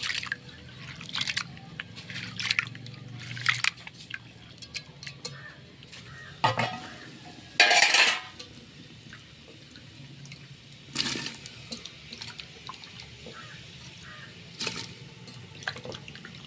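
Lentils (dal) get washed with water in a pot in a home kitchen: intermittent sloshing and splashing in short bursts, with dripping and quiet gaps between them.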